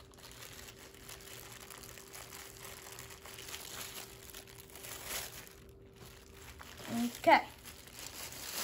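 Brief crinkling of a plastic bag covering a tie-dyed shirt near the end, a short rustling burst over a quiet background, after a voice speaks.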